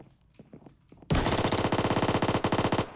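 Mini Uzi gunfire in the video game Minecraft, a sudden loud fully automatic stream of about twenty rapid, evenly spaced shots that follows a few faint scattered sounds.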